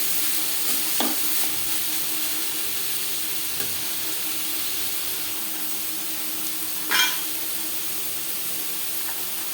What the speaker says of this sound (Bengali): ক্যাপসিকাম গাজর ও চিকেনের সাথে বেশ ভালো করে মিক্স করে দেবেন